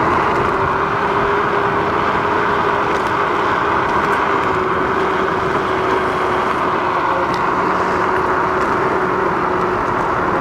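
Steady loud whirring drone of an Ausom Gallop dual motor 2400W electric scooter climbing a steep hill in ride mode 3 at over 20 mph, constant motor whine with wind rush throughout, no talking.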